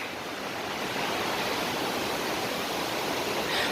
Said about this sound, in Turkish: Arkadaşlar Bulut Şelalesi'nin kaynağını gördük.